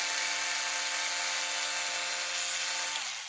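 An electric screwdriver drives screws into plastic parts of a Traxxas X-Maxx RC car, giving a steady close motor whine that holds throughout and winds down at the end, with no voices.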